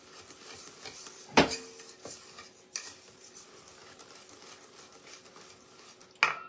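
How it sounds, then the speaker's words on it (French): Cheesecake charlotte mixture stirred in a bowl, a soft steady scraping with a few sharp clinks of the utensil against the rim, close and fairly quiet. "vous mélangez convenablement"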